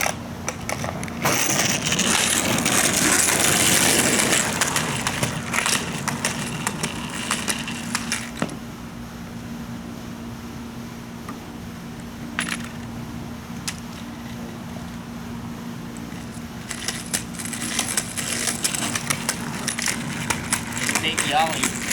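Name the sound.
skateboard rolling and fakie ollie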